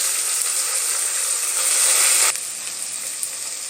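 Small onions sautéing in hot oil for a Tamil mutton curry, a steady bright sizzle heard close and alone, which drops abruptly to a quieter crackle partway through.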